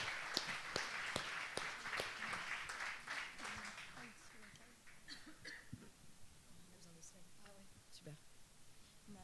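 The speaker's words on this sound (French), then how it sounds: "je vous remercie de l'applaudir très fort" Audience applause at a talk, sharp scattered claps starting fairly strong and thinning out over several seconds, with a voice speaking over the fading clapping.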